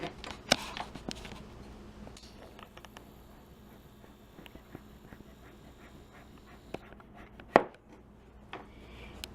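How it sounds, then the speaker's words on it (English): Big kitchen knife slicing down through a standing piece of butternut squash, several sharp chopping thunks against a cutting board with quieter scraping between them, close and clear. "I would stand it up and cut down it like this with my big knife"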